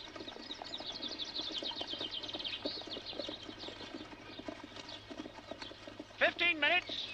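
Steady clip-clop of horses' hooves runs under continuous talking in a 1968 film, with a brief burst of chirping near the end.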